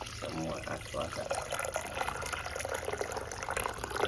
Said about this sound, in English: I'm going to add some more hot water.